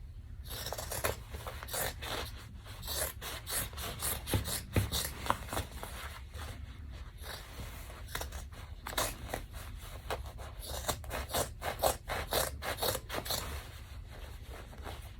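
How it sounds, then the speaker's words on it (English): Scissors snipping through a mesh bag and fusible fleece, a long run of quiet close crunching cuts and rasping scrapes in an uneven rhythm, with no talking. "my scissors keep getting stuck on the fusible fleece"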